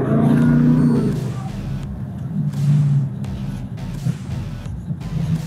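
A 2021 Shelby GT Premium with an Edelbrock supercharger accelerates hard, its close engine roar rising and then easing off as it falls into a steady drone.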